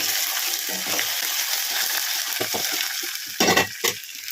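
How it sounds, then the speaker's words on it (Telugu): Mint and coriander leaves sizzle in hot oil for tomato rice, a steady crackling fry with soft scrapes and a couple of louder stirring knocks near the end. "ఇలా వేగిన తర్వాత కొంచెం పుదీనా కొంచెం కొత్తిమీర వేసి కలుపుకోవాలి"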